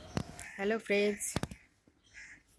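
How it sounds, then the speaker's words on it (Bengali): Crows cawing outside in the early morning, two harsh calls close together after a short greeting from a person, followed by fainter distant caws. "বাইরে কি সুন্দর কাকগুলো ডাকছে"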